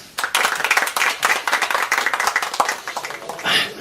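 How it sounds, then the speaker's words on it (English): A church congregation claps steadily and loudly together, a dense crowd of hands sustained throughout as someone walks up to read. "Let's clap for her as she comes."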